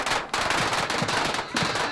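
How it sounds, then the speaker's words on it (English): Firecrackers set off at a village celebration on the Loess Plateau, a dense, rapid crackling burst that rattles on loudly with barely any pause. "firecrackers"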